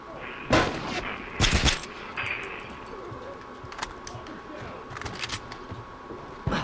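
Burst rifle fire in The Last of Us multiplayer, a couple of loud close bursts early on followed by sparser distant shots and clicks, with faint game ambience between.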